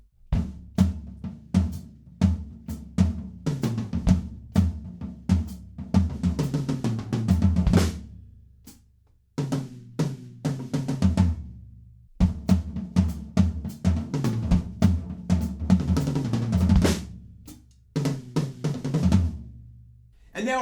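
A full drum kit plays a steady rock groove, stops briefly, then resumes and ends with a busy fill of rapid hits, loud and close.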